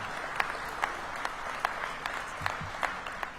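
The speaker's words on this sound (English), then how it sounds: "And I hope you feel that applause" A crowd at a Major League Soccer All-Star Game announcement applauds Washington, D.C. Mayor Muriel Bowser, a fairly faint, distant wash of clapping with a few sharper individual claps standing out at regular moments.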